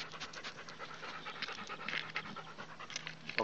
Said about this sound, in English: My gentle little clever doggy